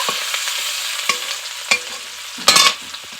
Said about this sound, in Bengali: 1 চামচ পাঁচফোড়ন, পেঁয়াজ কুচি হালকা করে একটু ভেজে নেব।